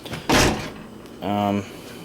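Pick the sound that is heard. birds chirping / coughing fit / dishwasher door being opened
dishwasher door being opened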